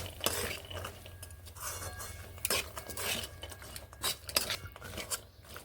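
Soaked chickpeas stirred and sautéed with spices in a pan for a pumpkin dish, giving repeated close scraping and clinking of a utensil against metal, with sizzling frying underneath and no talking.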